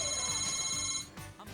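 A phone ringtone rings for about a second with bright steady tones, then cuts off, leaving background sound.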